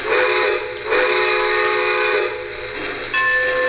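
Steam whistle of a Polar Express 15th Anniversary Edition model train, sounding as a loud, steady, multi-tone blast that breaks off briefly twice and resumes, close up with no talking.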